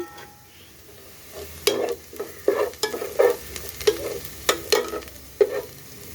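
Chopped onions and a bay leaf fry in oil in a pan, a soft sizzle under repeated scraping strokes as they are stirred, close and fairly loud.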